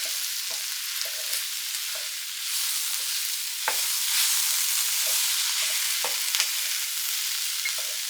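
Dirty pasta ingredients sizzle steadily in a pan while being stirred, with a constant hiss broken by soft scraping strokes of a utensil, fairly close, with no voices.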